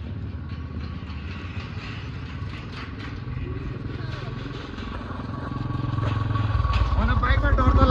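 A motorcycle rides along the rough Kaligandaki corridor road in Nepal, its engine drone and rattling clatter steady and close, growing louder toward the end, while a rider talks over it.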